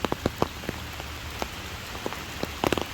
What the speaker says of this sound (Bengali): যে বৃষ্টি পড়তেছে এখন